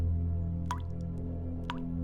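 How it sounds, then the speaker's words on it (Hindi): Water dripping in a mine, two distinct drops falling about a second apart over a low, steady hum. "शायद कहीं पानी टपक रहा होगा"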